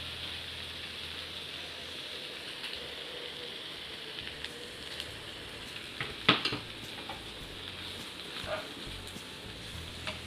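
Turmeric and flour mixture being stirred in a pan, a soft steady scraping and faint sizzle throughout, with one sharper clink of the utensil against the pan midway; no talking.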